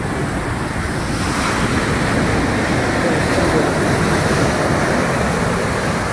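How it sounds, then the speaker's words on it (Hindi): Rough sea waves surge and crash on a Barcelona beach, a dense continuous roar of surf mixed with wind buffeting, loud and unbroken. "और ये समंदर इस वक्त काफ़ी गुस्से में नज़र आ रहा है।"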